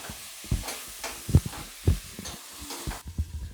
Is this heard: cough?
no